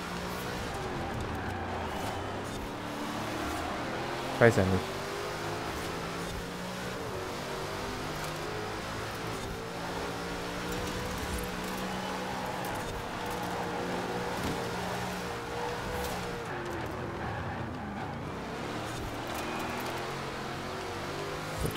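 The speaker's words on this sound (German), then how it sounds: "Porsche Boxermotor in so einem Auto." Porsche boxer engine swapped into a car in Forza Horizon 4, a continuous engine drone with rising and falling revs over a long stretch, one brief sharp knock near the start, and someone briefly speaking German.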